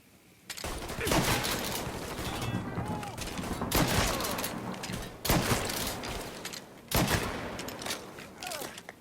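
Repeated bursts of gunfire from the Mafia III video game, with rapid volleys starting near the opening and sharp loud shots returning every few seconds, mixed with a dense, noisy background.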